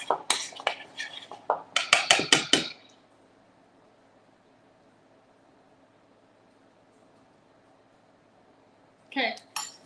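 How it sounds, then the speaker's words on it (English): Dry banana bread ingredients, including baking soda and salt, get stirred in a bowl with a quick run of close clinking and scraping strokes, then a long quiet pause before a few more clinks at the end. "then you're going to just mix it together"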